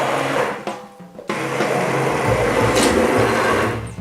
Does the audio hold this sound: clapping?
no